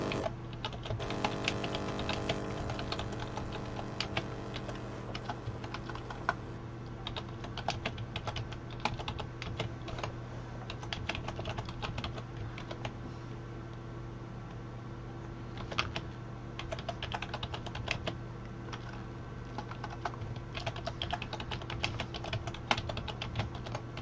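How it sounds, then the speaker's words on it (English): Steady keyboard typing runs throughout, a continuous stream of quick clicks at a moderate level over a constant low background hum, with no talk. "I like the typing noises."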